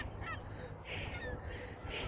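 Crows cawing outdoors, a few harsh calls repeating in an uneven rhythm at moderate distance over a steady low background hum.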